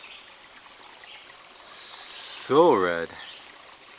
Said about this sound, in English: There's a spring and the water is just coming out. You can see it cascading,